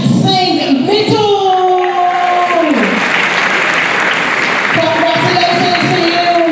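Loud, sustained audience applause fills a graduation ceremony hall for an award winner, steady clapping throughout, with an announcer's voice speaking over it for most of the stretch.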